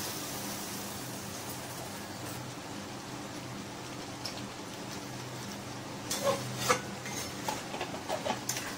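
Chicken do pyaza is stirred in a pan with a steady, soft scraping hiss, then a few light metallic clinks of a utensil against the pan toward the end.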